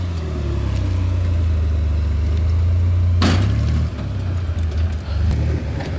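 Land Cruiser rock buggy with a carbureted 4.3 Chevy engine, Cruiser transfer cases and diffs, and 37-inch tires, driving off-road: a loud, steady low engine drone that briefly drops and wavers near the end, with a short burst of noise midway.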